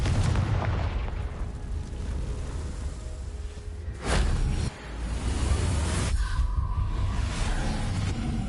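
A Confringo blasting spell cast in Hogwarts Legacy: a loud, continuous roar of booming, crackling blasts with a couple of sharp whooshing bursts. No voices are heard.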